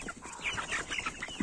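Young chickens, including Black Copper Marans and Mechelen hens, cluck and peep softly in a busy overlapping chorus outdoors nearby, with no talking.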